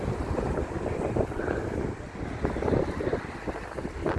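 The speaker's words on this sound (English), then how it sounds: "It's still really windy." Strong wind gusts outdoors on a town street, a continuous rumbling buffet across the microphone, loud and close throughout with no talking.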